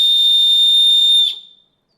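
A cheap plastic whistle bought on Wish, blown hard in one loud, piercing, steady shrill tone for just over a second before cutting off into silence.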